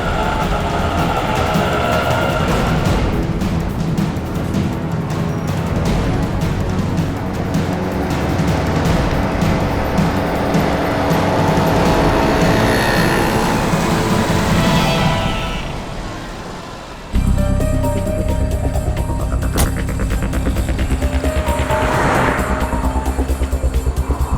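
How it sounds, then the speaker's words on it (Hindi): A car driving along while following another vehicle, with a continuous loud road and engine roar that briefly fades before resuming abruptly, and no talking. "तुम बस उस गाड़ी के पीछे पीछे चलो।"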